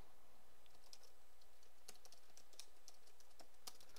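Soft, quick clicks of someone typing on a computer keyboard, irregular keystrokes close by in an otherwise quiet room.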